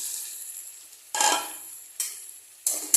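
Jackfruit and potato are stirred into softened tomatoes in a hot pan, giving three close, separate bursts of scraping sizzle, each fading before the next stroke, with no voices.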